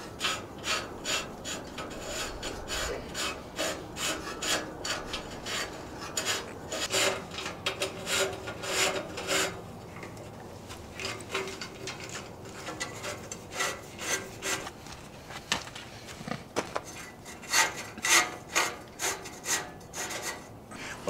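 Heavier-gauge electrical wire for trailer brakes is pushed through a runway, giving a long stretch of close scraping and rubbing with irregular bursts and brief pauses, quieter in the middle.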